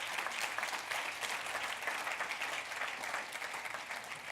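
A church congregation claps together in sustained, dense applause, steady and fairly loud from start to end, no speech over it.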